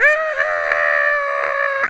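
A person imitating a video-game character's scream with a sustained, loud, tonal wail held steadily for about two seconds, close to the microphone.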